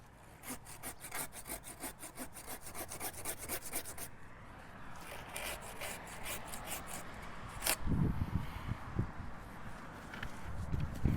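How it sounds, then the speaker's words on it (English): A hand saw cuts through the wood of an invasive tree in quick, steady back-and-forth strokes that rasp close and clear, then turn rougher with some knocking and rustling near the end. "the hand saws just are super quick"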